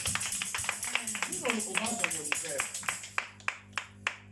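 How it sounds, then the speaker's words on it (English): A church congregation clapping hands for Jesus, a rapid, rhythmic patter of many claps under a voice speaking and singing, growing sparser and more distinct near the end. "Clap your hands for Jesus."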